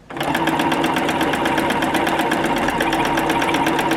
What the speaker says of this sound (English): Once that machine is stopped, then you can move your hands.